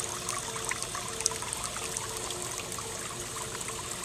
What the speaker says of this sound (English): So I can see now that the water's coming in